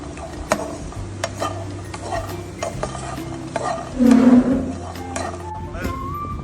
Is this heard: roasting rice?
yes